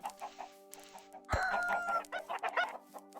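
Chickens clucking in the Minecraft video game, a series of short soft clucks followed by a louder burst of squawking cackles, close and alone with no talk.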